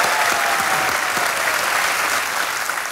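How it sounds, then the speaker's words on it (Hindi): Steady, loud applause from a studio audience on a television quiz show, dense clapping sustained throughout and easing slightly at the end, with no talk over it. "तालियों के साथ इनका एक बार फिर"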